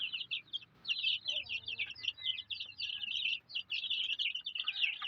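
A group of growing Salto chicks peeps in a dense, continuous chorus of high, thin chirps, close and fairly faint, with a low murmur of background noise beneath.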